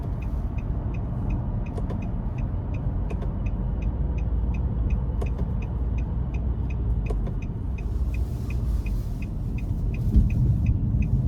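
A 2023 Nissan Maxima SR driving in manual mode gives a steady low engine and road rumble from inside the cabin, with a faint regular ticking running over it throughout.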